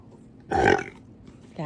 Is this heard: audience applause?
no